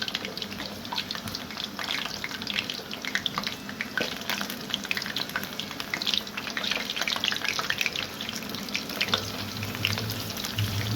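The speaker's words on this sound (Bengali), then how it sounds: "একটু লাল লাল করে ভেজে নিতে হবে।" Semolina frying in a pan for laddu, a steady dense sizzle and crackle running throughout at moderate loudness with faint scraping, no talking.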